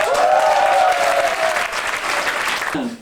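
Applause from an audience at an E-Land intern overseas-training presentation, dense clapping that swells early and slowly fades toward the end, with a sung or sustained voice tone running over it.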